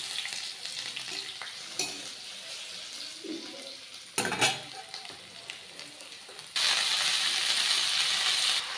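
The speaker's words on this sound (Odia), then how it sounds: "ଏବେ ଦେଇଦେବା ରସୁଣ।" Garlic and onion fry in hot oil in a pan, a steady bright sizzle with scraping stir strokes and clinks, the sizzling surging louder near the end.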